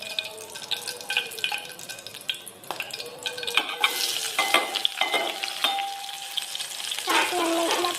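Chopped onion drops into a hot pan of oil and sizzles steadily, with the scrape and clatter of a spoon stirring it, the frying growing louder and busier toward the end.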